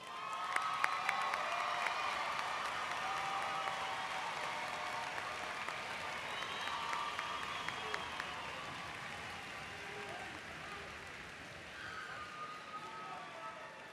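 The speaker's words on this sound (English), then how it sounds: "let's give them one more round of applause" Commencement audience applauding the graduates at a spring ceremony, a broad steady wash of clapping with scattered cheers from a large crowd, sustained and easing slightly toward the end.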